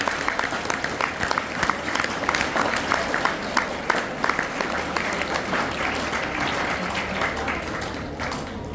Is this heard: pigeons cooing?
no